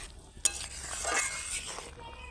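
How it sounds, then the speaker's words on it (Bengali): Rui fish curry with potatoes bubbles and simmers in a pan, a steady soft sizzling hiss with a sharp utensil clink early on and faint burbling swelling in the middle. "দেখুন এখানে তরকারিটা ফুটছে।"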